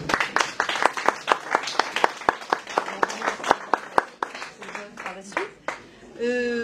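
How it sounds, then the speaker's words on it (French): Scattered clapping from an audience at a December 2012 exhibition gathering, a run of distinct sharp claps that thins out toward the end as a voice begins. "Et puis on l'applaudit, hein, bien sûr."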